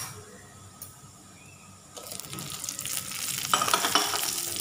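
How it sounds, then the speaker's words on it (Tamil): Sizzling oil crackles and pops as green chillies are dropped into a hot pan, the frying growing louder and busier. "பச்சை மிளகாய் கொஞ்சம் பொரிக்கும்"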